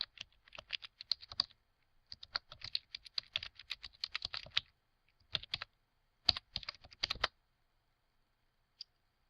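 Login details are typed on a computer keyboard in quick bursts of close, crisp keystrokes separated by short pauses, ending with a single final tap.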